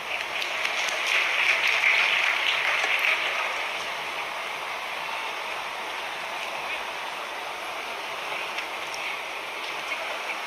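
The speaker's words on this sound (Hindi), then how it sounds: "जोरदार तालियां बजा।" Loud applause from a large crowd at a Ladli Laxmi Utsav event in Madhya Pradesh, a thick steady wash of clapping that swells early and then settles to a slightly softer continuous roar.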